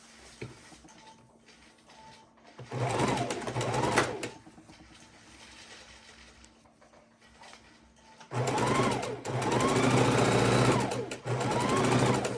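Sewing machine stitching quilt seams in two loud, steady runs with rhythmic needle chatter, separated by a quieter stretch of low room noise with only faint sounds.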